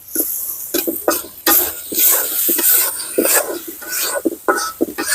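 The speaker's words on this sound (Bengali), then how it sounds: "আমি মশলাগুলো মাছের সাথে ভালো করে কষিয়ে নিচ্ছি" Spices sautéing with fresh river shrimp and their roe in a pan, a busy sizzle broken by repeated stirring scrapes and a few coughs, close and fairly loud.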